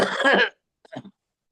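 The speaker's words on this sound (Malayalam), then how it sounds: "ആർക്കോ ചുമയുണ്ട്," A person gives one rough, breathy cough up close, followed after a short pause by a softer throat-clearing sound. Nobody talks.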